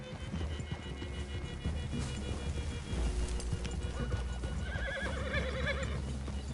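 Horses in the Red Dead Redemption 2 video game whinny and neigh over a steady clop of hooves, with a dense low rumble throughout and a brighter burst of whinnying near the end.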